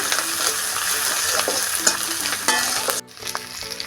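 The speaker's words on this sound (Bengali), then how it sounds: "দিয়ে দিচ্ছি গোটা লঙ্কা। আমি মশলাটা একটু ভেজে নেব।" Whole dried chillies and ginger with spices fry and sizzle loudly in a hot pan while being stirred, the crackle steady and close before dropping away briefly near the end.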